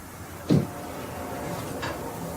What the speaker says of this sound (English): You open this door.